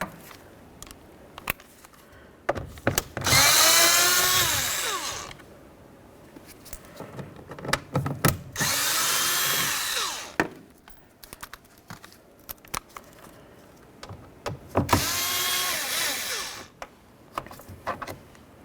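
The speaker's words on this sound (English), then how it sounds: "Now we're going to remove the 4 bolts that hold the speaker to the door itself." Power drill with star socket removing the T20 and T25 Torx screws that hold the door speaker on a 2007-2012 Dodge Caliber, three whirring bursts of a few seconds each, close, separated by clicks and handling noise.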